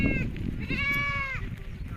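Several goats bleat in wavering, drawn-out calls over a rumbling low background, one long bleat standing out in the middle.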